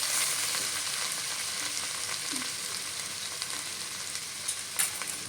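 A spice paste of dried chili powder, turmeric and Kashmiri chili powder sizzles in a pan for a vegetarian dish, giving a soft, steady frying hiss with a few small crackles.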